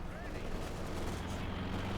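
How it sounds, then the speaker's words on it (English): Stuka Kanonenvogel dive bomber firing its 37mm cannons at armor in Company of Heroes 2, a dense rumble of gunfire and battle noise running steadily throughout under faint commentary. "Stuka Kanonenvogel there flying through, doing some damage here to old mate's armor with their 37mm cannons"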